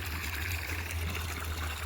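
Irrigation water flowing steadily into an onion field, a close, continuous gurgling trickle with a low rushing undertone and no pauses.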